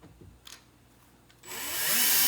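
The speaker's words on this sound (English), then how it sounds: "You'll notice I'm using a regular drill." Regular cordless drill driving screws into cabinet drawer hardware: a couple of faint clicks, then the motor spins up loudly and whines steadily, close by, with no talking.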